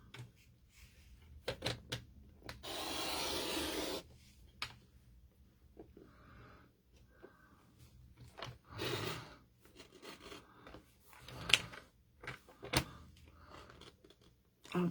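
A sheet of paper is scored for a card fold, producing scraping strokes, a long rasping pass and several shorter rubbing swipes with quiet pauses between them, close and fairly soft.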